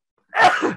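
A single sharp sneeze bursts out during an online meeting about home insurance inspections, loud and close, lasting under half a second after silence.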